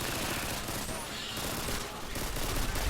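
Rapid, continuous automatic gunfire from the video game Call of Duty Modern Warfare 2 crackles loudly and densely throughout, with no pause.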